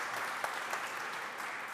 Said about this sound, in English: Can everyone just give a round of applause for Greg and Dr. Jones, please?